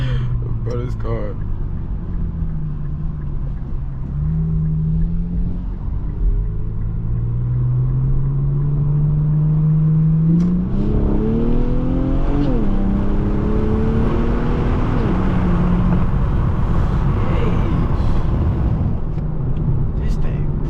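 Infiniti car engine at night, a deep rumble that revs and climbs through several rising pulls while accelerating, steady and close, with people talking over it.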